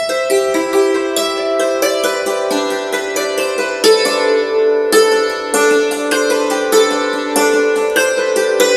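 Hammered dulcimer playing the fast opening of the tune Eatonwood Green, with a continuous run of quick struck notes and ringing overtones, steady and fairly loud throughout.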